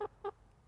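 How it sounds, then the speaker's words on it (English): A backyard flock of chickens, kept alongside turkeys, gives two short, close clucks about a quarter second apart, followed by quiet. "I need to get some of these chickens off of me."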